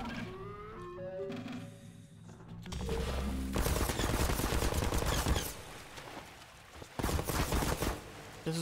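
Heavy gunfire in the video game Blue Portals, a loud dense burst of rapid shots filling several seconds, then a brief lull and another sharp volley, with game music and effects around it.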